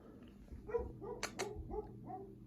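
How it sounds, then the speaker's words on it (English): Two dogs playing outside give a few short barks and yips at a distance, scattered through the moment with a brief louder double burst in the middle, fairly faint. "those two dogs are outside right now. They're playing"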